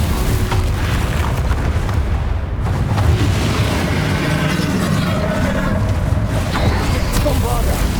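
Explosive blasts of the Bombarda spell in the video game Hogwarts Legacy, a dense rumbling boom sustained throughout amid layered game effects and music, loud and close with no talking.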